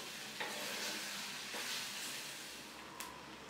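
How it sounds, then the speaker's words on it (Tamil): Steady, close sizzling of raw mango sautéing in oil, with a few soft stirring scrapes. "நல்லா எண்ணெயிலேயே 2 நிமிஷம் வதக்கி விட்டுக்க போகிறோம்"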